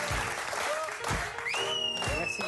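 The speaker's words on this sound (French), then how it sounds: "on va applaudir encore" An audience applauds warmly for a performer named Mylène at a French show, steady clapping throughout with voices and sustained tones layered over it.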